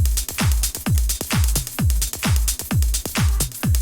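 A punchy kick drum thumps in a steady, repeating groove with crisp closed hi-hat ticks between beats, loud and upfront with no voices.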